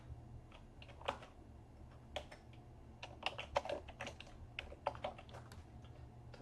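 Soft keystrokes on a computer keyboard as a password is typed, irregular taps and short bursts close to the microphone over a low steady hum, no speech.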